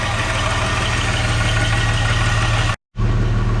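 Jaguar S-Type engine idling as it warms up, a loud steady low rumble with a regular pulse, close by, briefly cut off near the end before resuming.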